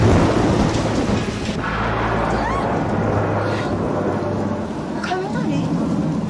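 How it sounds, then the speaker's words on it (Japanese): Thunder rumbles through a heavy rainstorm at night, with a loud, continuous hiss of rain and deep rolling booms that swell and fade, and a few brighter cracks and drips on top. "雷？ こんな季節に？"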